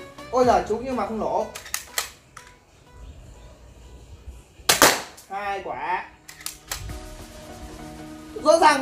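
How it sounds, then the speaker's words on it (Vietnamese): A plastic toy AK-47 that fires BB pellets goes off in a few sharp, loud snaps with gaps between them, while someone talks throughout. "khẩu súng AK-47mm sẽ bắn đầu tiên nhá"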